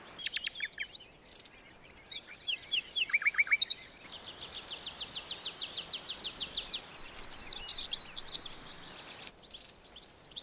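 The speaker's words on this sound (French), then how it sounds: "Partout, la symphonie des oiseaux annonce le changement de saison." Wild birds sing in spring in the French countryside, with several species trading bright chirps, trills and a long rapid series of repeated notes, fairly close and clear over quiet surroundings.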